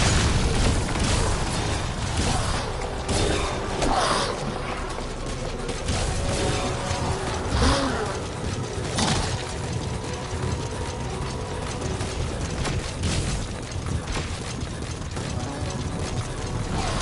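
A grenade explosion in Metal Gear Solid 5, heard within a dense, loud, continuous wash of game noise with repeated mechanical clatter and thumps throughout.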